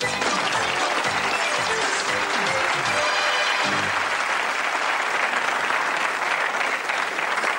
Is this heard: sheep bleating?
no